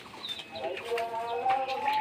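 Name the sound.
Sonali chickens clucking on a poultry farm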